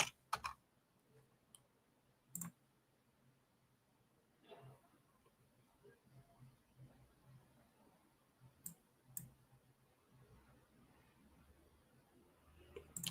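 Quiet, irregular clicking of keys on a computer keyboard, with scattered soft taps and a few sharper clicks spread over several seconds.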